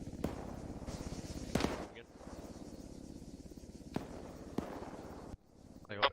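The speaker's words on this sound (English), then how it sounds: "individual shots coming from north as well, far" Individual gunshots from the north during an air assault group training exercise, a few sharp cracks spaced apart, fairly distant, heard under talk and ambient noise.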